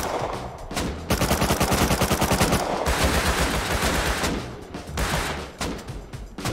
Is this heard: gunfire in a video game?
yes